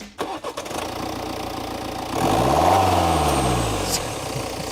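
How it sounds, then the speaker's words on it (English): A 2018 BMW X1's 2-litre diesel engine cranks and starts, then settles into a rough, clattering idle with a low uneven rumble, close by and alone. "This 2-litre diesel engine is as rough as, I mean, have a listen to this."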